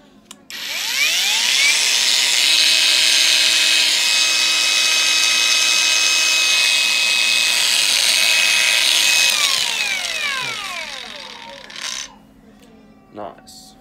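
An Interskol cordless angle grinder runs with no disc fitted, giving a high whine that spins up, holds steady for about eight seconds, then winds down. A few small clicks and handling knocks follow.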